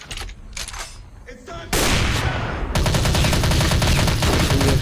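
A shooting video game starts with a few scattered shots, then breaks into loud, sustained rapid automatic gunfire that fills the rest of the moment.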